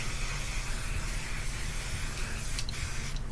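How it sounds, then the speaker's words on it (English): An aerosol can of oil sheen hair spray hisses in a steady continuous spray, close by, with a brief faint click near the end and no voices. "So I spray the oil sheen first,"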